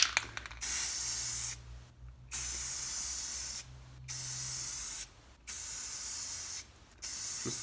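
A spray paint can sprays from about 1.5 feet away in four short bursts, each a loud steady hiss lasting about a second and a half, with brief quiet gaps between.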